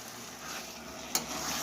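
Mutton kasha with potatoes stirred in a hot oily pan, a soft steady sizzle with a single quick spoon scrape against the pan, no voices.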